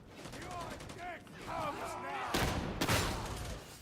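Shotgun blasts in Warhammer 40k Darktide, two heavy booming shots close together under a speaking voice and game noise.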